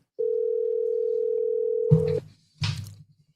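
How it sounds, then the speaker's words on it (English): Telephone ringback tone while a call is placed: one steady, clear tone lasting about two seconds, followed by two short bursts of noisy rustling. "Answer the phone, my brother."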